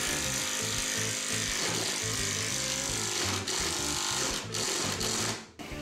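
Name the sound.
power drill drilling wood fixed with 90-degree jig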